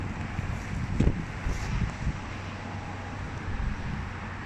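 Strong wind blows outdoors in the USA among decorated streets with flags, a continuous low roar with a few buffeting gusts against the microphone and no speech.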